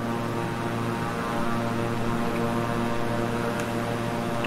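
Steady twin-engine propeller drone of a King Air 350i in Microsoft Flight Simulator, a continuous even hum with layered low tones and no talking.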